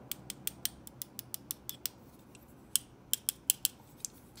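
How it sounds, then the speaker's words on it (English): A full-metal Parker Jotter XL ballpoint pen clicks sharply again and again, about a dozen crisp close clicks in quick runs, with a short pause near the middle. "it is a full metal pen with the same click action"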